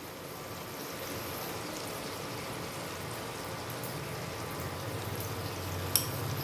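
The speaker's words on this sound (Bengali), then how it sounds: "আমি এটাকে 2-3 মিনিট একটু ভেজে নেব।" Carrot, beans, garlic, ginger and green chilli fry in a pan, giving a steady, close sizzle that holds evenly throughout, with a single sharp clink near the end.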